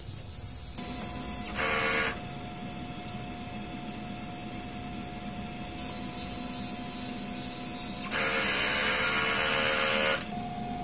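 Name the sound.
DTF printer head cleaning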